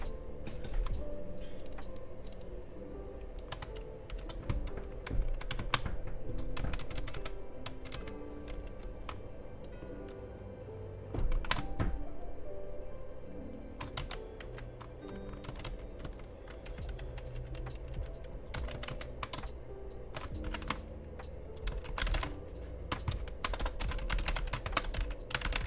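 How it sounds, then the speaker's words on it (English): A computer keyboard is typed on in quick, uneven bursts of clacking keys, close and continuous, over a low steady hum. "I swear I'm typing the right thing."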